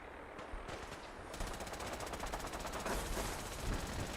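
Heavy gunfire blasts keep going in Fallout 4 combat, dense and rapid, building from scattered shots into a sustained barrage that stays loud to the end.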